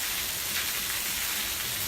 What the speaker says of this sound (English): You see the sun in the sky, and yet the rain is pouring.